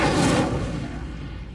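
Incendio fire spell cast in a Harry Potter video game, a dense roaring whoosh of flame that starts loud and fades over a second and a half, with no talk.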